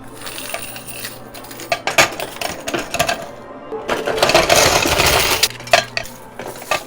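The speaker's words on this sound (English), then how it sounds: "let me go collect the quarters real quick" Quarters pour and clatter out of a coin pusher machine in bursts of metallic jingling, with brief pauses between handfuls and a louder rush of coins near the middle.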